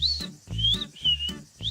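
A person whistles in short repeated phrases, each a bright rising or gliding note, four calls evenly spaced and fairly close, with brief gaps of quiet between them.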